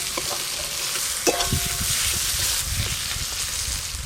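Chopped tomato hits hot spices in a kadai, raising a loud, dense sizzle that holds steady while a spatula stirs and scrapes underneath, close and unbroken.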